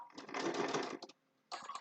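A sewing machine fitted with a twin needle stitches fabric bookmarks up close. It makes a loud whirring burst of about one second, pauses briefly, then starts a second short run.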